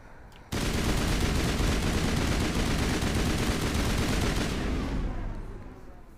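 Sustained automatic weapon fire from a gun in Mass Effect bursts in abruptly after a brief pause, roaring loud and continuous for several seconds before tapering off, with no talk over it.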